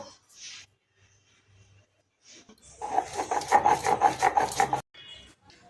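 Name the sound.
grinding poppy seeds into a fine paste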